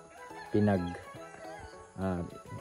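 Pet chickens on a small backyard farm, with two loud, drawn-out clucking calls a little over a second apart over quieter background sounds.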